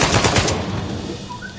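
Rapid automatic AK-47 fire in the video game Uncharted 4, a loud dense burst of shots that tails off into a lingering rumble, with no talking.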